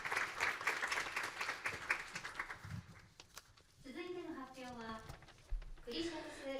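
Faint applause from an audience for a few seconds, then a person begins speaking as the clapping fades.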